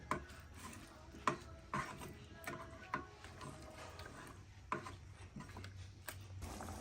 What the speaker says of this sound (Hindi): अब हम इसको पकाएंगे गोश्त को अच्छी तरह से।